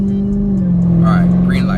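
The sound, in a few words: Dodge Charger SRT Hellcat accelerating hard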